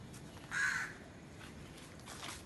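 Crows caw outdoors, one loud harsh caw standing out near the middle over a steady background hiss, with fainter calls around it; no talking.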